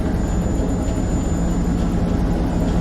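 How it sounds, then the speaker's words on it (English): Steady helicopter rotor drone with engine rumble in the video game Man of Medan, a constant loud hum that holds evenly for the whole stretch with no talking. "There's the helicopter."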